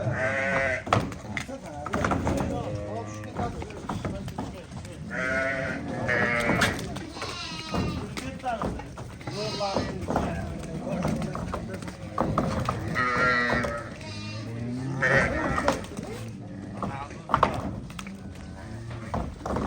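Sheep bleat repeatedly, several animals calling close by in overlapping cries, with someone talking among them.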